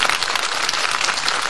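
Audience applause at a gathering or ceremony, a dense, steady wash of many hands clapping, loud and continuous without pause.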